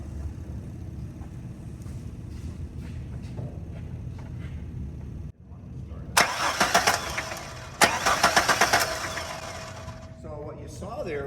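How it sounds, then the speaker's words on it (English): A car engine that cranks but will not start turns over in two long rhythmic cranking bursts, loud and close, after a stretch of low background noise with a voice talking. "So I'm just going to put that in there and we'll crank it over."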